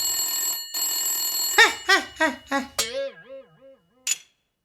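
A rotary telephone dialing a police station, heard as a steady tone followed by a short series of rhythmic ring pulses, close and clear, then a final brief chirp.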